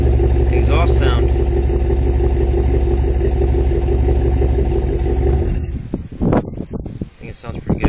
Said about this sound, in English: That's your exhaust sound.